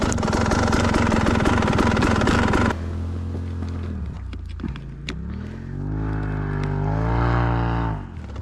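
A moped fitted with an RK Tek piston, new crank, RK Tek head and Scalvini pipe runs close by, with a loud steady engine note that cuts down to a lower, slightly uneven burbling idle that rises and dips.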